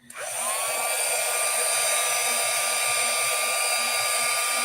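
A heat tool blowing low heat to dry media paste, a steady loud whooshing whir starting abruptly and running unbroken, with no talking.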